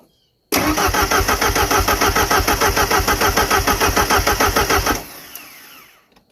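A Ford Ranger engine is started close by: after a brief quiet it fires into a loud, fast, pulsing run for several seconds, then drops away to a fading rumble.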